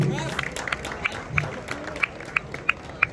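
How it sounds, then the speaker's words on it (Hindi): A crowd at a prize distribution ceremony claps in encouragement: scattered, moderately faint applause with a few sharper claps standing out toward the end, over a murmur of background voices. "भरपूर तालियां हौसला अफजाई के लिए"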